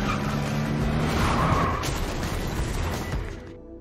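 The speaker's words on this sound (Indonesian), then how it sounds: "Dolinski menyenggol mobil Tuan Takur hingga membuatnya menabrak besi" A car in an action film is rammed from behind and slams into metal, a loud continuous rumble of engine and grinding with skidding noise that builds and then cuts off abruptly near the end.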